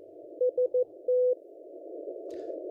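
Morse code sidetone from an amateur radio transmitter keyed at reduced power: a steady tone sends three short beeps and then one longer beep. It sits over a constant band of receiver hiss, with a brief faint noise near the end.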